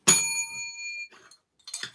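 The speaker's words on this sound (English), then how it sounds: "This is my bell, by the way." A small desk bell struck once by a live sports draft show host rings out loud and close, its bright tone decaying over about a second, followed by faint brief clatter.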